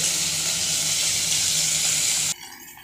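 Vegetables and fish heads sizzle in hot oil while a rice pot boils over beside them, a steady loud hiss and bubbling that cuts off abruptly near the end.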